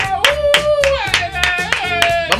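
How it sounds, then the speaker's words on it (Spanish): Several people clap in a studio radio show welcoming a new sponsor, sharp hand claps landing in an irregular burst of about eight beats, close and loud, over a sustained musical tone running underneath. "Un aplauso, por favor, para ese nuevo patrocinante."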